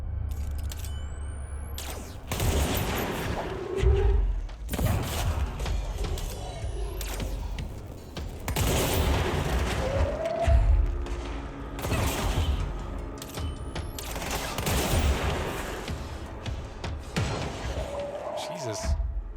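Explosions and gunfire in the video game Control, several heavy booming blasts spaced through a tense firefight, with rattling debris and mechanical noises between them.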